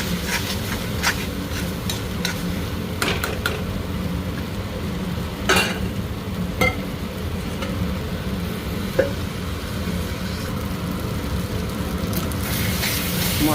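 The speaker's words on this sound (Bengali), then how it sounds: "মশলা ভালো মতো ভাজা হয়ে গেছে" Masala with coconut and peanuts fries in oil for masala baingan, giving a steady close sizzle and crackle with a few scattered knocks of a spoon against the pan, and no voices.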